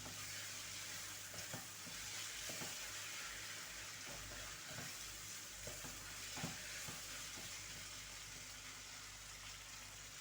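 Red tomatoes go into a hot frying pan, giving a continuous soft sizzle with occasional stirring scrapes and taps, steady and fairly quiet, with no voices.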